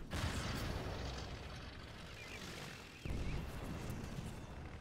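Explosions from Stuka dive bombing in the Toy Soldiers game, a dense, continuous roar of booms and blasts with a fresh surge partway through, loud and sustained.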